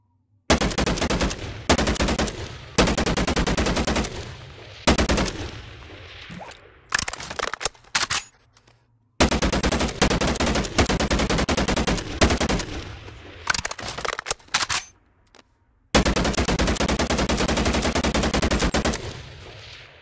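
The ISO Hemlok mod fires fully automatic in the video game BONELAB, loud close bursts of rapid gunfire broken by short pauses across the whole stretch.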